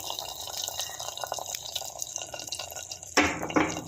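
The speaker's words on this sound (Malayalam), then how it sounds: "ഇനി നമുക്ക് കറിയിലേക്ക് ഒഴിച്ചു കൊടുക്കാം." Liquid is poured into a pot of green peas curry, with faint dripping and trickling at first, then a louder, splashing gush near the end.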